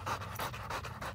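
An American Bully dog at a breeder's pants rapidly and rhythmically, about five quick huffing breaths, close by and moderately loud with no voices.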